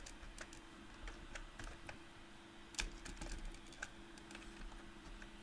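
Close typing on a computer keyboard at a desk, with quiet scattered key clicks and a few sharper taps over a low steady hum.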